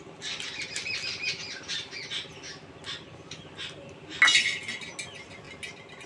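Sugar and salt being stirred into a stiff dough in a kadai, heard as repeated scraping and clinking strokes of a utensil against the pan, one sharper knock midway.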